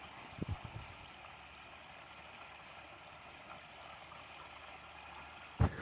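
A small creek flows near the campgrounds at Panther Creek State Park, giving a faint, steady watery hiss throughout, with a couple of soft knocks near the start and one sharp thump at the very end.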